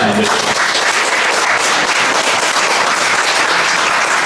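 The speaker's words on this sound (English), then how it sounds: "So round of applause for the speakers." Loud, dense applause from an audience at a food industry talk and panel session, continuous close clapping filling the whole stretch, with no talk over it.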